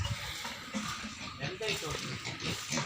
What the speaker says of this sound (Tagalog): Oh, mga baboy.